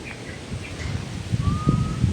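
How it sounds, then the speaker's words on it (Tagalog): Faint whistling in the forest: a few short chirpy whistles and then one long thin whistle over rustling wind and leaves. "may sumisipol"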